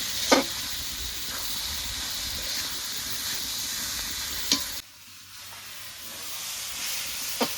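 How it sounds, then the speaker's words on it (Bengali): Fried cabbage is stir-fried with spices in a pan, a steady close sizzle and hiss with occasional scraping clinks from the spatula and no talking. "এবার মশলার সঙ্গে বাঁধাকপিটা ভালো করে নেড়ে ছেড়ে কষিয়ে নেবো"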